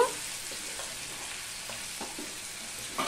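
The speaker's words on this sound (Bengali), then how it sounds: "টমেটোটা দিয়ে আমি কিছুটা নেড়ে দিচ্ছি, দেখতেই পাচ্ছ" Tomatoes are stirred in a frying pan over low to medium gas, a soft steady sizzle with a few quiet spatula scrapes and taps, close and fairly faint.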